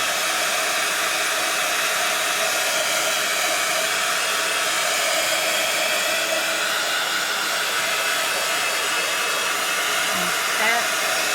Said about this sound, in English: So my heat tool is about to go on.